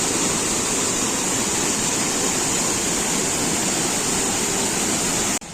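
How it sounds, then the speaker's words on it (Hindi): A waterfall near Kanchenjunga Falls on the Yuksom route in Sikkim pours down from a height. Its dense, steady roar is loud and close and fills the whole clip without a pause. "हम लोग को एक और वाटरफॉल देखने को मिल रहा है, और आप देख सकते हैं कैसे ये हाइट से गिर रहा है"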